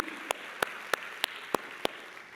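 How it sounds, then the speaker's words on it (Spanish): Six sharp, evenly spaced claps ring out in a steady rhythm in a church congregation, each crisp and distinct over a quiet background. "Dale un fuerte aplauso a Él, iglesia, fuerte."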